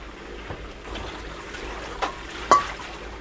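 A Hotpoint washing machine pumping out its water near the end of a wash cycle, a low steady trickling, draining wash under a faint hum, with a couple of brief louder splashes toward the end.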